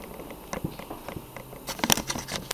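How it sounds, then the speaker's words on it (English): Rain pattering outdoors, a steady faint bed of irregular soft taps with a few sharper, louder drops near the end, no voices. "Basically, it's raining."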